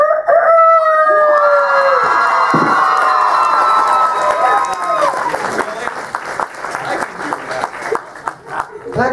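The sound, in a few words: voice actor imitating a rooster crowing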